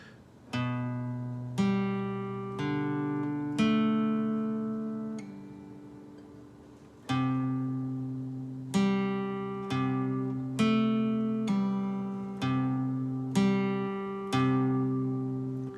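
An electric guitar plays a slow riff, each plucked note or pair ringing out and decaying before the next, evenly paced with a brief pause midway.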